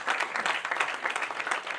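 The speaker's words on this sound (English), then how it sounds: "I will just ask all of you a big clap for Kashmir" Audience at a book release event giving a big round of applause, a dense, even burst of many hands clapping at moderate distance, sustained for the whole short stretch.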